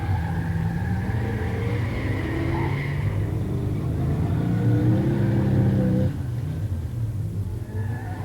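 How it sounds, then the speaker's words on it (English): A 1968 Shelby GT500 Mustang with a 428 V8 drag races a 1966 Pontiac Grand Prix 389 automatic in a stock muscle-car drag race, producing a loud sustained engine roar that rises and then drops off. "In the near lane, Bill Bartels in a 68 Shelby GT 500 Mustang"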